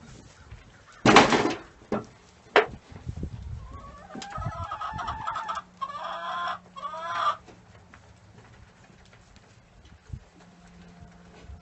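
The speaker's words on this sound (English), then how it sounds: "No, that's actually a chicken." A chicken clucks close by in a goat barn at breakfast time, a few short calls amid hoof clops and rustling, with a burst of clucking in the middle.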